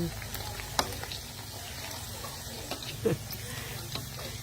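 Fresh pork marinated in plain salt fries in oil, a soft steady sizzle with light clinks of stirring, close and quiet throughout.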